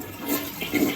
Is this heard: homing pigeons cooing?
no